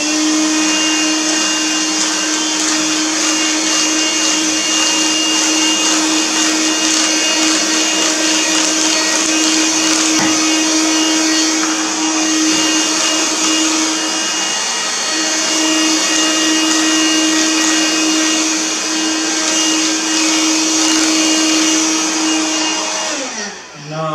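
A vacuum cleaner runs loud and steady at close range, cleaning an Azio Retro Classic keyboard during a teardown, with a constant motor whine for the whole stretch before it winds down at the end.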